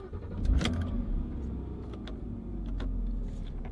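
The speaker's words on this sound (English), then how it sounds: "So if I just start the car," A Porsche car engine starts up close by, a brief cranking burst followed by a steady low idle rumble; no one speaks.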